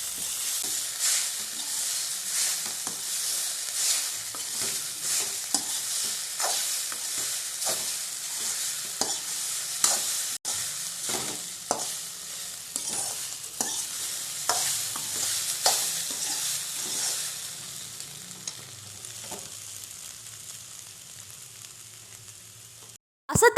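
Egg poriyal is stirred in a pan with chili powder, a steady close sizzle broken by frequent spoon scrapes and clacks that thin out near the end.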